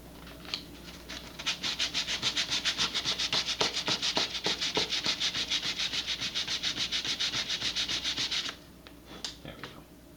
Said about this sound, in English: I'm actually going to sand that right now